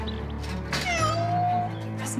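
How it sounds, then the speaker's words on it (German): A cat meows once in a long drawn-out wail over a low steady background hum, close and fairly loud, in a German fantasy film trailer. "eine Katze."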